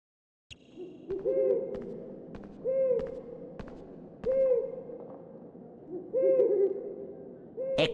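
An eagle owl in the Diagon Alley area of the PS1 Harry Potter game hoots in four clear, evenly spaced bursts of deep calls with no talking over them.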